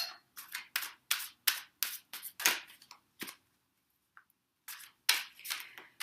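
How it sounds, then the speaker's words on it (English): A deck of tarot cards is shuffled in quick, crisp riffling bursts, a rapid series of close, sharp flutters that pause briefly before resuming. "Shuffle a little bit more."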